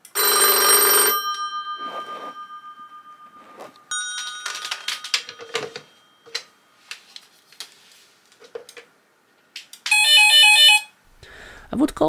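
An old mechanical telephone bell rings loudly in harsh metallic bursts, one at the start and another near the end, with clicks and rattles between.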